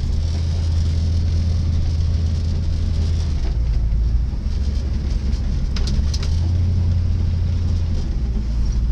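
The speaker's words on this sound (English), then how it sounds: "you guys can see that the car runs and stuff now." A 1967 Ford Mustang with a 390 engine idles steadily close by, a loud deep rumble with a slight shift in pitch partway through, with birds chirping faintly in the background.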